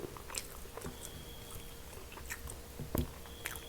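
Someone eats spicy papaya salad with crab and fermented fish, making soft, close, irregular wet chewing and crunching sounds with a few louder bites.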